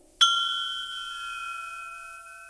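A single temple bell is struck once, sharp and close, then rings on with a pure sustained metallic tone that slowly fades over a couple of seconds in otherwise quiet surroundings.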